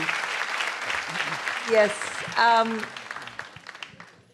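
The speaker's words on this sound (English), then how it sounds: "We can give him a big round of applause" A live audience applauds to welcome comedian Papa CJ. Moderate clapping runs beneath speech and brief vocal reactions, then fades toward the end.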